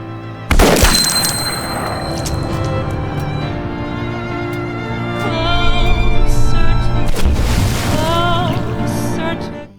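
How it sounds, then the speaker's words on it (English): A single loud, sharp pistol gunshot in a film's crime thriller scene, followed by a booming, reverberant tail and a swelling dramatic score with another heavy hit later. "She personally pulls the trigger and shoots Do Hyun."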